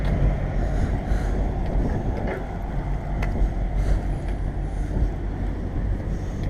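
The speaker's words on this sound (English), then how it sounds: "Another Scania R560, just like what we got." A Scania R560 truck rolls past outdoors, its deep engine rumble steady and fairly loud throughout, mixed with wind buffeting the microphone and road noise.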